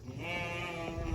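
Sheep bleating in a farm pen, a single close, wavering bleat heard on its own at moderate loudness.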